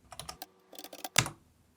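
A PIN tapped out on a computer keyboard: a quick run of light key clicks, a short pause, a second burst, then one louder final keypress, close and clear with no voices.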